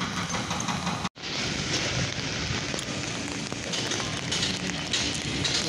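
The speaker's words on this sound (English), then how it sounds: "It's raining." Steady rain falls outdoors on a Memphis street in gloomy weather, a dense continuous hiss close by with no talking and one brief dropout early on.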